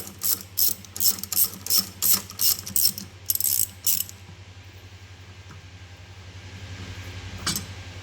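A ratchet clicks in a quick regular run while undoing a gearbox bolt on a Ford Focus, close and crisp, with a second short burst before it falls quiet.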